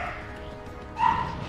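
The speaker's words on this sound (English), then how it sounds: "My dogs are barking." A dog barks once or twice indoors, a short yip-like burst rising over faint background noise from a Halo 4 gaming session.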